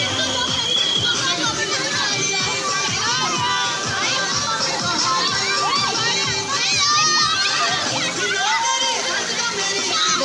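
Crowd of children shouting, screaming and playing at a large, busy swimming pool with slides, a dense, loud, continuous din of young voices and splashing-like play throughout.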